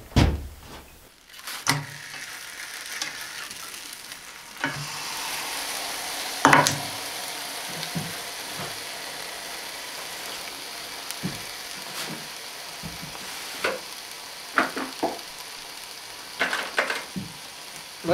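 Pork ribs frying in a hot pan at a log cabin, a steady sizzle hissing throughout, broken by occasional thumps, clatters and a door-like knock nearby.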